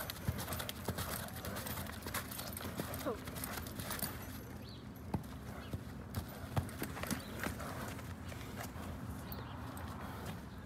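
A horse lopes outdoors at a riding session, hooves clip-clopping in a quick rhythmic beat against steady background noise, fairly faint and distant, with people's voices mixed in.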